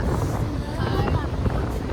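Strong wind buffeting the microphone in a continuous low rumble, with a voice faintly present underneath.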